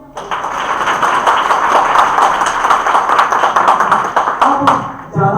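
An audience in a hall at a network marketing business seminar bursts into dense, energetic rhythmic clapping, loud and close, holding steady for several seconds before tapering off at the end.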